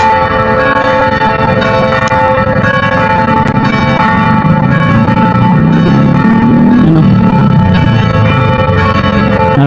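A church bell rings in San Pedro, Davao City, its loud, steady peals sounding continuously and close, the metallic tones ringing on and overlapping without a break.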